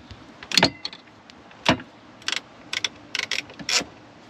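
A ratchet works a 10 mm bolt on a 2022 Kawasaki Ultra 310 LX supercharged jet ski, heard as a few short metallic clicking bursts at close range with quiet pauses between.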